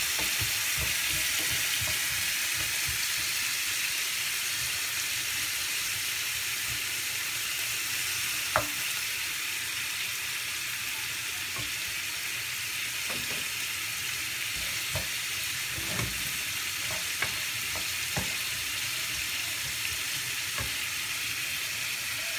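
Wine poured into a hot frying pan with chicken breast scaloppine, giving a steady loud sizzle throughout with a few faint clicks and scrapes of the pan, no voices.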